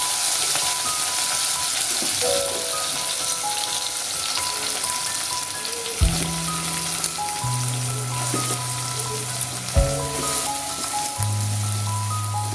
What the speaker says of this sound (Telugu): అందులో క్యాప్సికమ్ చేసుకుని చక్కగా మగ్గబెట్టుకోవాలి